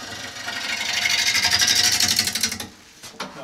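A skew chisel cuts across the bottom of a wooden bowl spinning on an electric lathe, a close, loud, steady whirring rasp with a rapid pulsing texture that swells and then cuts off, followed by a couple of brief scrapes.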